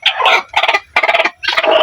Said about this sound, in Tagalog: Naglilimlim na yung iba nating mga manok ko.